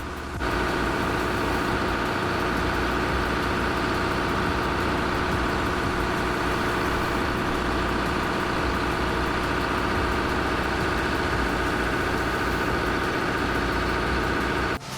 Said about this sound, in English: The lead hauler's engine howls in defiance.